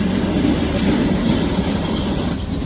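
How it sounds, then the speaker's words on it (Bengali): A train rumbles into a station, a steady loud roar of rolling wagons with faint clattering wheels, continuous throughout with no voices. "তো গাইস ফাইনালি ট্রেন চলে আসছে"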